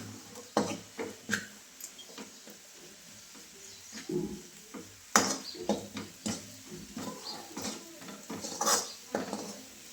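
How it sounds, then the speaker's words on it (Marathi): A spiced Marathi tempering (phodni) is stirred in a pan, producing irregular clinks and scrapes of a utensil against metal at close range, with no speech. "फोडणी चांगली परतली गेली"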